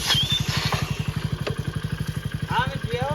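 A motorcycle engine thumps in a fast, even rhythm nearby, idling or rolling in slowly, with faint voices calling in the background.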